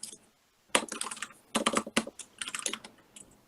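Fingers type on a computer keyboard in quick bursts of close, crisp keystrokes separated by brief pauses, with no talking.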